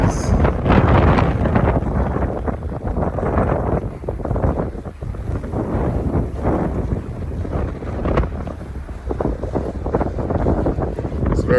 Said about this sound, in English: As you can see, I'm hitting the north side and it's very, very windy.